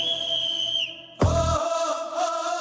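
Whistling from a Tamil political campaign music video for Vijay: a sustained high whistled tone over backing music, then a sudden thump and a new whistled phrase over a thinner mix.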